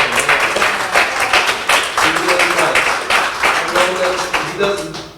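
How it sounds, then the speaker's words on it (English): Audience applause at a Brown Beret National Party Moratorium gathering in 2019, a steady, dense burst of many hands clapping for several seconds, with voices mixed in beneath it. "give him a round of applause"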